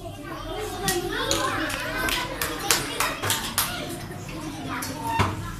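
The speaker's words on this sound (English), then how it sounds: "Clap your hands." Schoolchildren at a school in Pondicherry clap their hands in a quick run of sharp, close claps, with children's voices chattering throughout.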